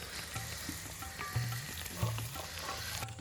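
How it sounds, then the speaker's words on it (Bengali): Onions frying in a pan of hot oil on a home stove while cooking spinach chicken, a steady close sizzle with soft stirring scrapes running throughout. "এবার পেঁয়াজগুলোকে ভেজে নি।"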